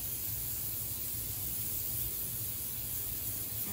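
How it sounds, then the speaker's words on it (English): Steady, continuous hiss of an aerosol cooking spray onto foil, even in loudness throughout, with a low rumble underneath and no talking. "Now adding some cooking spray"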